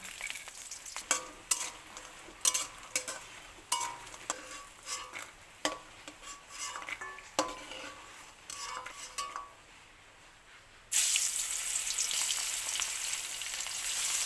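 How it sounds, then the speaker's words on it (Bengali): Hot oil sizzles and crackles in a pan as dried lentil dumplings fry, a utensil clinking and stirring, then a louder, steady sizzle takes over near the end. "আমি এবার প্রথম বড়িটা ভেজে নেব তারপর মাছ ভাজব"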